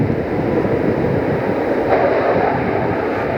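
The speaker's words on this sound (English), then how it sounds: "Alright, that sound is the reversers stowing." Delta jet airliner at Lihue, Hawaii, its thrust reversers stowing after landing: a steady, broad roaring rush of engine noise heard from a distance, with a slight swell partway through and no talk.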